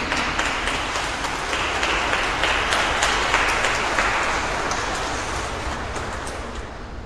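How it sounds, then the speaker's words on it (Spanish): A church congregation applauds during Sunday mass in October 2020, a dense, steady wash of clapping that fills the whole stretch and thins slightly toward the end. "Un aplauso de agradecimiento."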